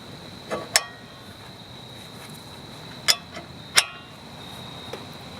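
A ball joint press is cranked by hand to push an upper ball joint into a vehicle's control arm, giving a few sharp metallic clicks and creaks at irregular intervals over a quiet, hissy background.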